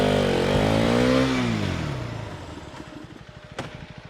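KTM Duke 390 motorcycle at speed in its power band, a loud rising engine note that sweeps up and then winds down into a lower, pulsing idle-like putter.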